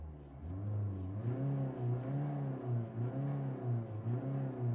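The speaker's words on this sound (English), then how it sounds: "Let's just quickly hear the exhaust." Ford Figo S diesel hatchback idling with its exhaust running, a steady low throb with gentle rhythmic swells and dips, close and alone with no talking.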